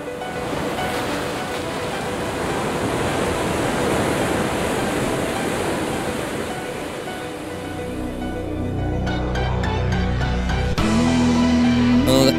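Broadband ocean surf washing steadily along the Indian Ocean coast of Africa, loud and continuous, with a low droning rumble and some tonal music-like sounds rising toward the end.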